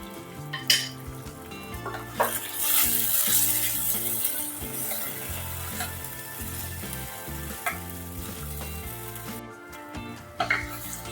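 Ingredients for a king fish head curry sizzle and fry steadily in a pan, with scattered stirring scrapes and clinks of a utensil against the pan; no one speaks.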